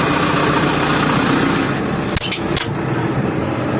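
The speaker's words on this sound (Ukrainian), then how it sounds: "Почуєте роботу двигателя." A vehicle engine with 2,700 engine hours idles in a steady, close, low rumble, with a couple of sharp clicks partway through.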